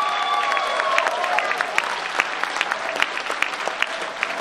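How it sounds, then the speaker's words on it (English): Convention attendees applaud at the Megaplex 2015 closing ceremony, a steady, full crowd of clapping with sharp individual claps standing out across the whole stretch. "Please give yourselves a round of applause."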